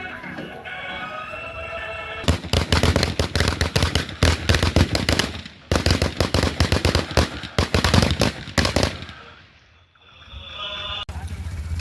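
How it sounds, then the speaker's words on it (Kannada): Firecrackers burst in celebration after a local cricket team's win, loud rapid strings of sharp cracks and pops in two long close volleys with a short break between, then fading to quiet outdoor ambience. "ಪಟಾಕಿ ತಂದಿದ್ದು ಗೆದ್ದ ತಕ್ಷಣ ಹೊಡೆಯೋಣ ಅಂತ."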